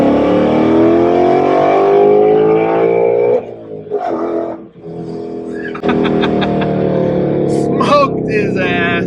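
A tuned 2020 Ford Mustang GT V8 pulls hard, its loud engine note climbing steadily through a gear, then a brief dip at the shift before it builds again, close-miked from inside the car.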